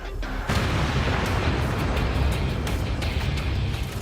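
A German 88 artillery gun fires with a sudden heavy boom, followed by a long, loud rumbling roar and crackling echo that fills the space for several seconds.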